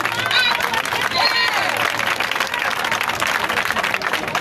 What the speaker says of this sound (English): Hey man, y'all clap for me.